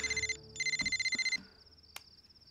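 An incoming call sets off a phone's electronic ringtone, a loud pulsing trill in two short bursts, followed by a fainter steady beeping tone with a brief click, no one speaking.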